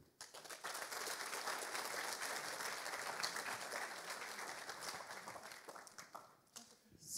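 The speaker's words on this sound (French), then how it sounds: "Je vous demande, sans plus attendre, d'accueillir, avec vos applaudissements, Scott Finn." Audience applause at the Agile en Seine 2021 conference welcoming a speaker to the stage: dense, steady clapping from a sizeable crowd for about seven seconds, fading slightly near the end.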